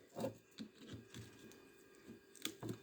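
Copper windings are cut from a microwave oven transformer, heard as a few irregular sharp snips and knocks, close and fairly quiet, with no talking.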